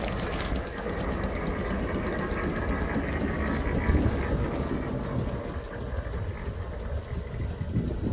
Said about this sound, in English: So that's the mower.